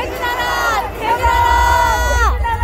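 Protesters at the 25th candlelight rally in Incheon roar together in a loud, sustained crowd shout with rising and falling voices. A second surge of shouting follows a brief dip.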